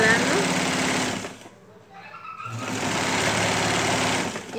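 A sewing machine stitching a fabric headband with a filled bow, a steady loud motor whir that pauses briefly and then resumes, close by, with speech alongside.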